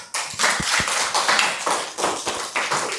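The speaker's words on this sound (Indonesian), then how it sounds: "Selanjutnya, boleh tepuk tangan." Students in a classroom clapping hands together, a short burst of close, crisp claps with a few distinct sharp slaps, brief and fairly loud.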